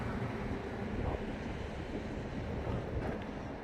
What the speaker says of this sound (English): it's cold and windy right here